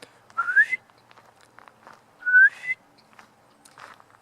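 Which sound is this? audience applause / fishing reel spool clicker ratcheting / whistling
whistling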